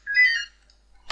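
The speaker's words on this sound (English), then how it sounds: "that was the phone" A phone rings once with a short, bright electronic chirp, then falls quiet.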